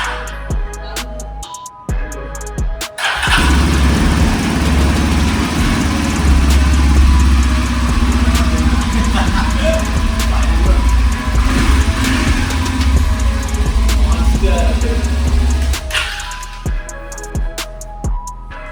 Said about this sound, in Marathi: आता आपण गाडी स्टार्ट करूया